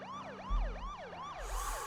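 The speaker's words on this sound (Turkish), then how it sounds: "polisten korkma yok abi sirenlerimiz var" Police-style car sirens in the driving game Car Simulator 2, a rising and falling electronic wail cycling about three times at moderate loudness, with a brief low thump and a burst of hiss near the end.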